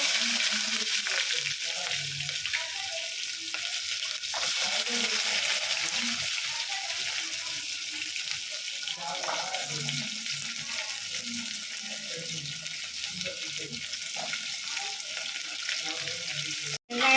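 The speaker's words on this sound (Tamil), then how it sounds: "சேர்த்து கடுகு பொரிஞ்சுக்கிட்டு இருக்கு" Mustard seeds spluttering in hot oil for Tamil vatha kuzhambu, a steady close crackle with scattered pops and a faint stirring scrape that holds unbroken for the whole stretch, no voices.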